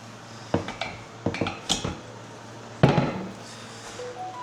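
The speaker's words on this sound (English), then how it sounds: "what I'm going to do now is hang the radiator and yeah, see if it's level" A designer radiator is hung on metal wall brackets, giving a few sharp metallic clanks and knocks in quick clusters, then one louder clang, against a quiet room hum.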